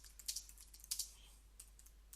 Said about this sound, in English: I can literally start typing.